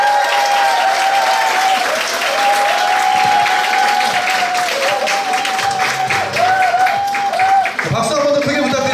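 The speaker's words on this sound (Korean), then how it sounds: "큰 박수 부탁드립니다." Sustained applause from an audience at a Korean corporate presentation, a dense, steady wash of clapping with a voice speaking over it.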